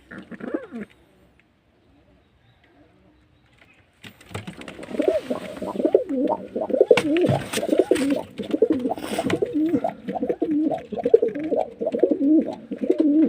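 Pigeons cooing in a coop, a continuous throaty burbling from several birds, close and fairly loud, after a short quiet stretch at the start.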